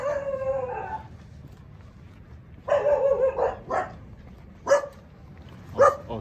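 Dogs howl and bark near a beach resort, a drawn-out howl followed by a longer wavering howl and then a couple of short sharp barks, fairly close against a low background hum.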